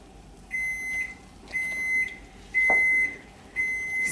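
A kitchen oven signaling it has preheated to temperature, four evenly spaced, clear electronic beeps each lasting about half a second, with a small clatter partway through.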